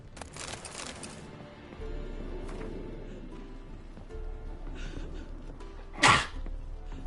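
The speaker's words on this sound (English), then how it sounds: "Do my best to sneeze away from the microphone" A single sharp sneeze from a streamer, sudden and loud against quiet background noise late in the clip.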